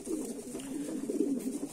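Pigeons in a loft coo in a steady, low, rolling murmur that carries on unbroken at moderate volume, with no other sounds over it.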